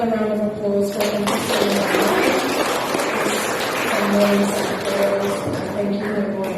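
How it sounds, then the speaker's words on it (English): An audience at the Miss Samoa 2023 pageant interview session claps in a round of applause. The clapping is steady and moderately loud, and a voice carries on over it. "We'll just have another round of applause for them."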